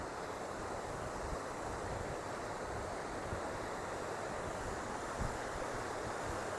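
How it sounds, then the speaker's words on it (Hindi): Water of the Kali Sindh river in Rajasthan rushes in a steady, dense roar, spilling as a sheet over the riverbed, constant and unbroken throughout with no voices and a wind-like hiss mixed in. "काली सिंध नदी जो है वो बिल्कुल अपने बहाव क्षेत्र पे चल रही है और नदी पे चादर चल रही है"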